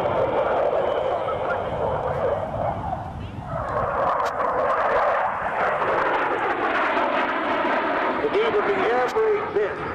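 CF-18 Hornet jet performing level rolls at a 2002 Saskatoon airshow: a loud, sustained engine roar that shifts in pitch as the jet passes, heard under an announcer talking over the PA.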